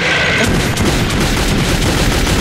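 Dense, loud gunfire in Metro 2033, a continuous barrage of overlapping shots and booms filling the space with no break, close and heavy, no voices over it.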